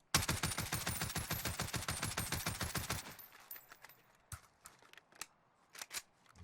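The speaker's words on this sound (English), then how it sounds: "We're going to shoot at this guy right here" Oden assault rifle with a Commando foregrip in the Warzone video game fires a loud, rapid automatic burst of about three seconds, followed by scattered quieter clicks and sharp single cracks.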